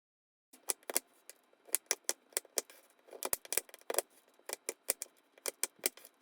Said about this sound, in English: I will be using my knife to cut a chocolate bar in small pieces